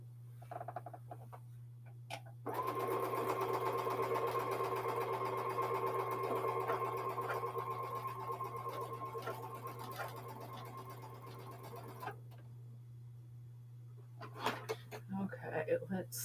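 Sewing machine stitching jelly roll fabric strips, a steady continuous motor whir with stitching texture running for about ten seconds, then stopping, with a constant low electrical hum underneath and faint shuffling at the end.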